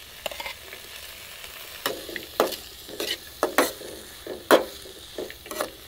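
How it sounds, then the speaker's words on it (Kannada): Tomato and onion fry in a pan for avalakki usuli while a spoon scrapes and stirs, giving a steady sizzle broken by repeated sharp scraping strokes at an uneven rhythm. "ನೋಡಿ, ಚೆನ್ನಾಗಿ ಫ್ರೈ ಆಯಿತು ಟೊಮೆಟೊ ಮತ್ತು ನೀರುಳ್ಳಿ."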